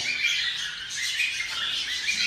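Pet budgerigars, silver lime and heavy pied varieties, squawk and chirp together in flight cages, their shrill calls overlapping in a continuous moderate chatter.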